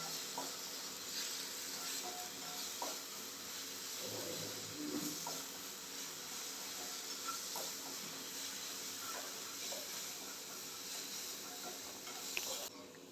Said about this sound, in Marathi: या तेलावर चांगल्या परतून घ्यायच्या आहेत, म्हणजे त्यातला ओलावा